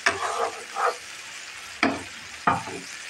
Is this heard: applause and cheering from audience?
no